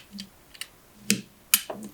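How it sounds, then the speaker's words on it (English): A cutter snipping a small V notch into a Li-ion battery pack for an RC jet, several short sharp clicks and snips spaced irregularly, close and quiet. "So I just take the cutter, and cut a little V, and the cable goes in."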